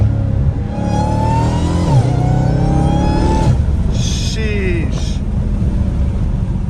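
Supercharged Dodge Hellcat Redeye engine revs loud and close, its harmonic roar climbing and dropping in repeated pulls with a high supercharger whine on top and brief rustling near the end.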